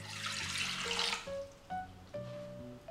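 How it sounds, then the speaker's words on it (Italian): Water pours into a Thermomix TM5 jug for chickpea flour crepe batter: a close, splashy rush for about a second, then softer gurgling with rising ringing tones as the jug fills. "Nel boccale metto l'acqua"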